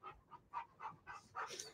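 A Rottweiler growls at a person indoors: faint, close, short vocal bursts about every quarter second that grow rougher and louder toward the end, with no talk.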